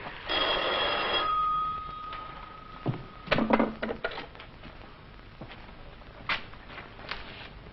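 An old telephone bell rings in a room with a short burst of ringing, followed by thumps, footsteps and small handling clatter.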